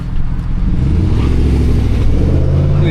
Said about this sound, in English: Drag race. Big V8 right there.